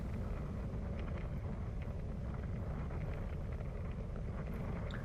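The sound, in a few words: headwind blowing on road bike ride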